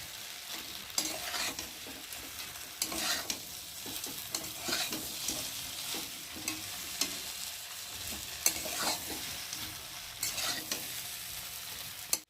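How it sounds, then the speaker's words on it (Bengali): Chili chicken with Maggi noodles sizzles in a pan while being stirred, repeated spatula scrapes and clanks over a continuous close frying hiss. "এবার দিয়ে দেবো চিলি চিকেন। ভালো করে নেড়ে দেবো।"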